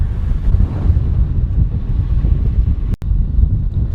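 Strong wind buffets the microphone in a constant low roar, with one brief thump and dropout about three seconds in.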